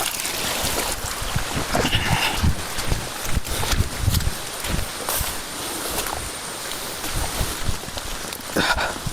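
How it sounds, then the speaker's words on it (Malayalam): Rain patters steadily on surfaces nearby at a campsite in a wild forest, with scattered heavier drips and taps over a constant wash of falling water. "രാവിലെ തന്നെ നല്ല മഴ കേട്ടോ."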